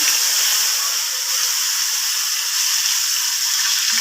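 Tomatoes hit a hot pan while cooking sabudana potato khichdi, giving a steady, broad sizzle with a watery hiss that holds evenly throughout, close and fairly loud, with no talking.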